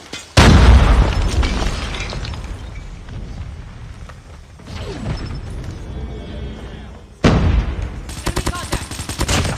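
A grenade blast in Call of Duty, heard as a loud, near boom with a sharp onset that trails into rumbling gunfire and battle noise, with a second heavy burst late in the clip.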